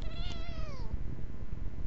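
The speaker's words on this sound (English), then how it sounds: "I wanted you to hear her because she has the most unattractive voice of any kitten" A single drawn-out, scratchy meow from a kitten, close and loud, falling in pitch before fading into background noise.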